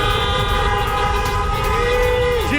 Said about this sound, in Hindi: मेरे पीछे लोग कार हॉर्न कर रहे हैं, दिखा रहे हैं कि वो कितने खुश हैं।